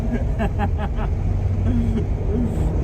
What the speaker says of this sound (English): I can't believe I'm driving a Porsche 356 right now. I'm at full acceleration.